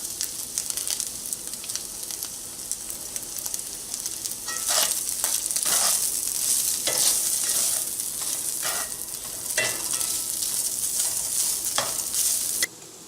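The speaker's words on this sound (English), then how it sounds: "Let this cook for a few minutes and keep stirring it." Pulled pork sprinkled with dry rub warms in a pan while it is stirred, giving a continuous close sizzle and crackle with irregular scraping strokes throughout.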